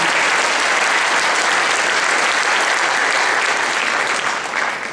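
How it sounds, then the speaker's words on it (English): A full audience at a 2016 high school Christmas concert gives a loud, sustained round of applause, dense and even for several seconds before easing slightly at the end. "Please give all of them a round of applause."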